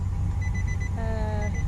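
A steady electronic car door-open warning beep, repeating briefly then joined by a second higher warble, over a low idling engine rumble, no voices.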